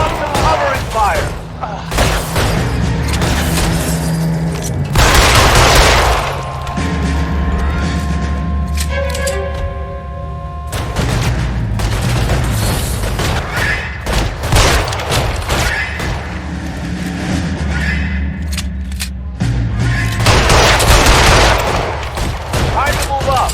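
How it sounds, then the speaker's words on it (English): Sustained covering gunfire in LA Noire, loud and near, with rapid bursts and volleys continuing throughout, broken by heavier booms and punctuated by brief spoken lines. "Lay down some covering fire."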